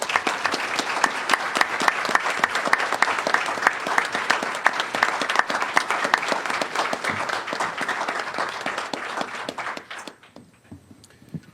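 An audience at a human rights conference bursts into sustained, dense clapping that holds steady for about ten seconds before cutting off sharply into quiet.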